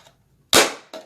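A portable die-cut machine's plastic sides snap shut: a sharp plastic snap followed quickly by a second, softer clack, close by with no talking.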